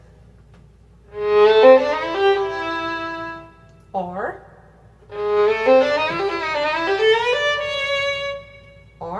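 A solo violin plays short three-note figures from Grażyna Bacewicz's Sonata No. 2, two clear phrases of bright bowed notes separated by a brief pause, close and alone.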